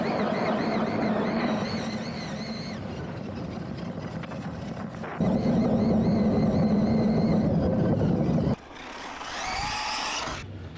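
Arrma Mojave 6S RC truck, an 8th-scale basher, whines loudly with a high, jet-like motor tone that rises and falls across several passes, cutting off abruptly near the end before a fainter spin-up.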